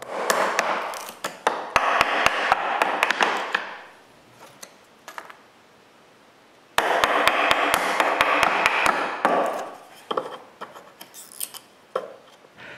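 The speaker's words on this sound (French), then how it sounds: "du contreplaqué, là, c'est pas facile à couper avec un ciseau à bois" A wood chisel cuts into plywood in two bursts of sharp, rapid scraping and tapping strikes separated by a quiet pause, close and fairly loud, with a few scattered knocks trailing at the end.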